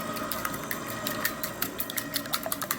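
An electric mixer on low beating molasses, honey and oil in a home kitchen, a steady motor whir with faint rhythmic clicks and bumps of the beaters against the bowl, moderately close and alone.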